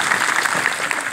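A short, loud burst of audience applause at a 74th Republic Day celebration, dense clapping from a large crowd filling the whole moment.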